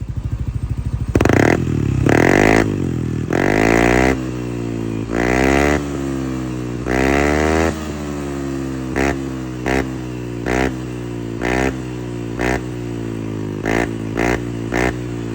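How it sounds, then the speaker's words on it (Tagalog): A Yamaha Aerox V3 scooter fitted with an Apido exhaust revs close up, with a long opening rev followed by a series of short, sharp throttle blips over an idling rumble. "i-soundcheck naman natin to mga boss para marinig nyo kung gaano kalutong to"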